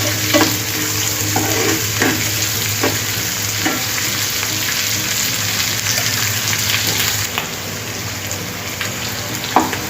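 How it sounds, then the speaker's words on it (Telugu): Curry leaves and tempering fry in oil in a pan for wheat rava upma: a loud, continuous sizzle with intermittent spitting pops, close up, for about ten seconds without talk. "ఇలా వేసుకొని ఫ్రై చేసుకోవాలండి"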